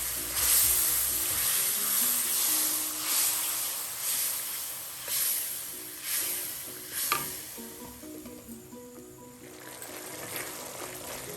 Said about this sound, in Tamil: இப்போ கொஞ்சம் தண்ணி ஊற்றி நல்லா கொதிக்க வைக்கணுங்க.